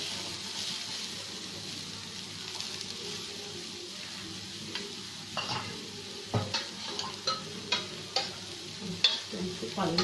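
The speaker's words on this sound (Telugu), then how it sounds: "ఉల్లిపాయలు కూడా వేగిపోతాయి." Rava dosa and onions fry on a hot pan with a steady soft sizzle, while a spatula scrapes and taps the metal in a rising series of clicks toward the end.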